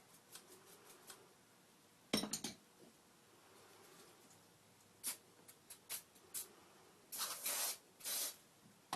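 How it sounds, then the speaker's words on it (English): Short hissing bursts of Q20 penetrating oil sprayed from an aerosol can onto rusty screws, several separate squirts of varying length, close and fairly loud against a quiet background. "Spray this down with the Q20 blue and first the penetrating oil."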